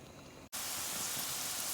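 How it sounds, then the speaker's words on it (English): Onion hitting a hot pan for cauliflower fried rice, breaking into a loud, steady hiss and sizzle after a brief silence, continuous and close with no talk. "So we're gonna add our onion to the pan."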